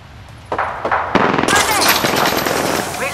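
Gunfire in Apex Legends: several sharp single shots, then a loud, dense burst of automatic fire that continues to the end, close and punchy, with a voice speaking over it.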